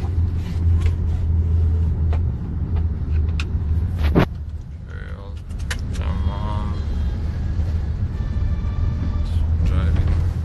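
A car driving through Bombay traffic, its steady low engine rumble continuous throughout, with passing vehicle noise and a brief sharp sound partway through, all under a constant road drone.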